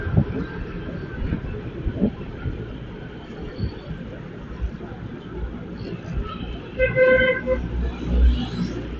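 Traffic rumbles with voices talking, then a jeepney horn honks in a short burst of toots near the end.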